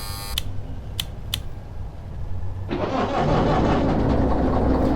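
A diesel locomotive in the Derail Valley train simulator starts up: a few short clicks, then the engine turns over and settles into a loud, steady, rumbling idle, with no talking.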